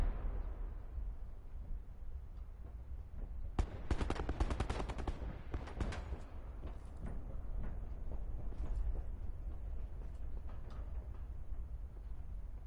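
Gunfire in a PS4 video game: a sudden burst of rapid shots breaks in partway through, followed by scattered further shots and impacts over a low background rumble, fairly faint overall.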